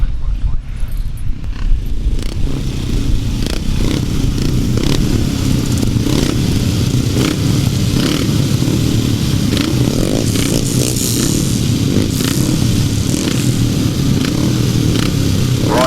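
Grasstrack motorcycles race at an October meeting, their engines droning and revving at a distance beneath a loud public-address announcer who talks throughout.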